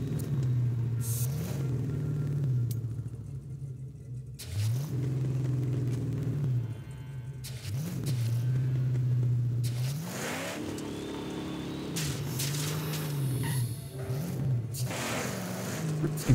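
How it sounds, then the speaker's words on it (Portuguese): A car engine drones and revs while driving in the Mad Max video game, loud and close, pitch rising and falling through several gear-like surges over sixteen seconds, without speech. "E para já é só um trajeto do carro."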